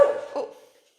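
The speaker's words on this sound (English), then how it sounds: "that was my dog Bobby showing his excitement about observing" A pet dog gives a single excited bark, close and fairly loud, tailing off into a short whimpering sound before silence.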